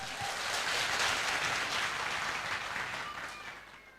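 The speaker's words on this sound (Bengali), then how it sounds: "সো ঢাকা জেলার জন্য একটা জোরে হাততালি হয়ে যাক" An audience gives a loud round of applause for Dhaka district at a small talk event, dense clapping that swells early then gradually tapers off toward the end.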